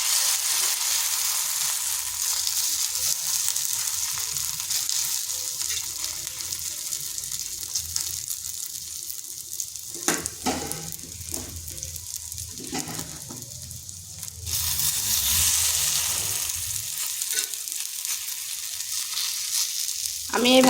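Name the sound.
egg snack mixture frying in oil on a tawa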